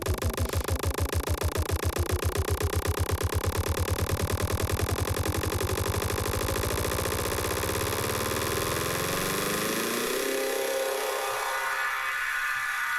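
A DJ loop on CDJ decks sped up from 180 to 999 BPM, its rapid repeating pulses rising into a continuous buzzing whine that sweeps upward like a riser, loud and alone.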